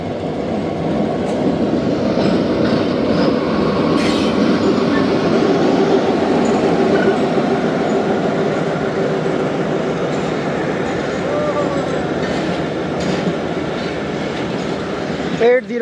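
Passenger train hauled by locomotive 1276 running on an Indian railway line, a steady loud rumble of wheels and carriages with faint clickety-clack throughout, heard close from on board.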